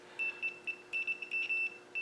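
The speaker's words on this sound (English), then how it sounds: "I'm going to do a continuity test between there and there before I fit it" Continuity tester sounder beeping while checking the original horn push wiring on an old Land Rover, a series of short high-pitched beeps of irregular length, some broken and stuttering, close and clear over a quiet background.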